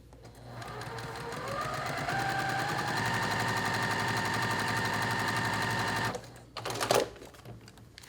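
Sewing machine stitching an economy quilt block, a fast steady mechanical rattle running for about six seconds, then a short burst of handling noise as the fabric is moved.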